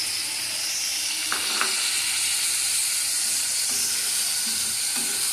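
Ground spice paste sizzling steadily in a hot pan after a splash of water goes in, with a continuous close hiss and a few small pops and scrapes, with no talking.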